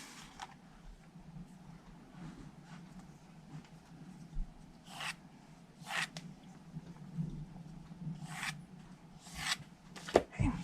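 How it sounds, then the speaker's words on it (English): A bone folder curls a paper strip for a Stampin' Up! treat box, making quiet, scattered scraping and rubbing strokes against a soft background hiss. "I'm just going to curl it twice on each side with my bone folder"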